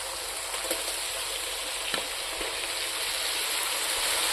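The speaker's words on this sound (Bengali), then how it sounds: "এখন আমি মাংসটা দিয়ে দেব চিকেনটা দিয়ে দিলাম" Chicken pieces frying in hot oil in a pan for a traditional home-style chicken dish, a steady close crackling sizzle that holds evenly throughout, with a few light clinks.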